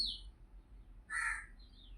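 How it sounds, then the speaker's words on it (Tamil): A crow caws once, a single harsh call close by in otherwise quiet surroundings, with a faint chirp just before and after. "காக்கா பைய கத்துறா."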